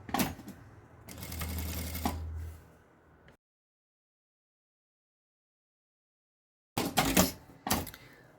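Sewing machine stitching a French seam on an unlined fabric bag: a short run of rapid mechanical whirring and clatter, then several seconds of silence before a few more quick bursts of stitching.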